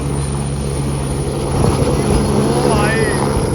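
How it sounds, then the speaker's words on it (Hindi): A helicopter flies near Kedarnath temple in the mountains, its steady rotor and engine drone continuous and fairly loud throughout, swelling slightly as it draws closer. "ये देखो हेलीकॉप्टर"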